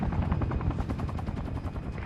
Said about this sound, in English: The hell? Enemy chopper,